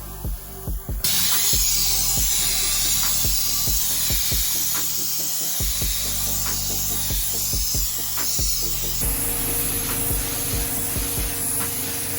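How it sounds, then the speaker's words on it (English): Steady pressurized hissing from a Static Solutions static spray gun set to 2 bar runs throughout, broken by faint clicks and taps, with the tone shifting slightly partway through. "you're going to effectively use this the same way as you will a spray gun"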